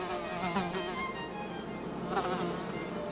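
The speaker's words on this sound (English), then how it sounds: "Yet their hovering buzz is no pollen for it." Swarm of bees from a hive producing a dense, continuous hovering buzz that stays loud and steady throughout, with wavering layered drones and no voices.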